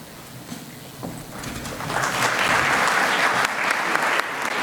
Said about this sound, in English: let's give them a round of applause again for their dedication